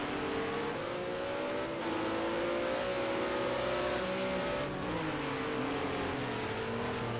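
Racing cars lapping a track in an Xbox racing game, several engines droning and whining together with rising and falling pitch as they accelerate and shift, steady and continuous without talk.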